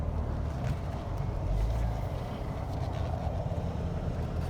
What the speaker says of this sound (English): You can hear the exhaust the whole time.